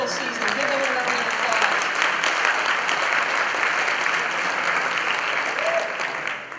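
A banquet audience claps for a school baseball team in a steady, dense round of applause, loud and continuous throughout, with faint voices mixed in.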